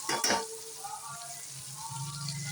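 Food sautéing in a hot pan with a steady sizzle, opening with a brief louder burst of stirring or frying noise before settling into a continuous close hiss.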